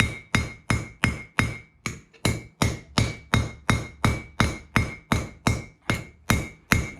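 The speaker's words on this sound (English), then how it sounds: "Hammer this flat, good and flat." A troy ounce silver bracelet is hammered flat on the forge, with about eighteen sharp metallic blows landing in a steady, even rhythm, close and loud, with no voices.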